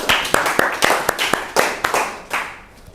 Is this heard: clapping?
yes